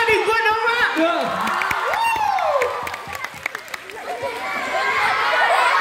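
A studio audience at a Vietnamese talk show claps and whoops, with lively crowd noise under loud, excited speech from a host and guests.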